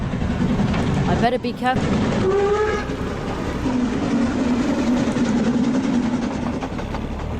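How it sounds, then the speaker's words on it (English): A loud train rumbles past in the point-and-click adventure game The Night of the Rabbit, a steady clattering roar with a brief horn-like tone, while a voice talks over the first part. "There's a big loud train going by."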